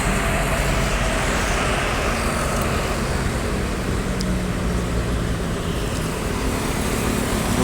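A new Sumbar ANS bus passes a petrol station in Palembang, its loud, close engine roar blending into continuous heavy road traffic noise throughout.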